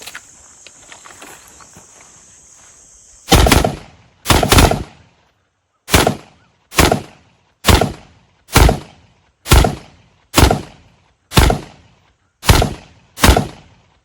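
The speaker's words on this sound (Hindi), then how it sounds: "थोड़ा सा हम इसको रैपिड फायर करके टेस्ट करते हैं जरा" Rapid shots from a freshly zeroed handgun on an outdoor range ring out as about a dozen sharp, loud reports in a steady rhythm, each with a short decaying tail, after a few seconds of quiet background hum.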